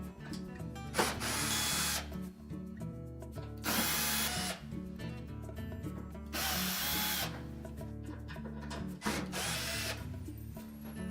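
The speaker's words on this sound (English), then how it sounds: "Now we'll go ahead and remove the rest of the screws that secure that back panel." A power drill backs screws out of the back panel of a Whirlpool range, whirring loudly at close range in several sustained bursts with brief pauses and clicks between them.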